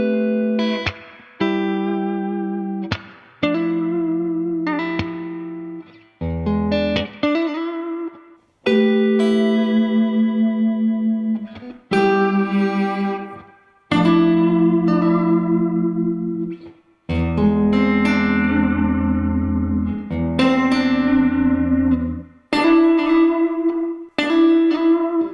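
Electric guitar strums a series of chords drenched in chorus and distortion effects, each chord ringing out loudly before the next, with no talking.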